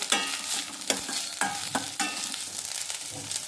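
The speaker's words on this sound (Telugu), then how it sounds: "దాంట్లోనే మూడు పచ్చిమిరపకాయలు కొద్దిగా కరివేపాకు వేసుకొని కొంచెం వేపుకుంటాము" Green chillies and curry leaves fry in hot oil in a pan for a bhindi curry, a continuous crackling sizzle broken by several sharp scrapes and clacks of a spoon stirring, close and without talk.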